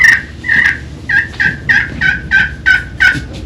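A run of nine or ten sharp, high-pitched turkey yelps from a call, evenly spaced and close, with faint background noise between them.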